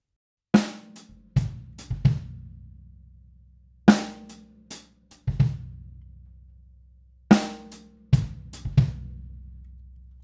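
Sharp, punchy drum hits land in repeating clusters, quick strokes followed by short gaps, forming a tight recurring pattern with no talking.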